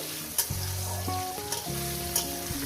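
Potatoes frying in oil to brown crackle and sizzle softly in a pan, faint and close, with a few sharp clicks and some tonal background sounds over the frying.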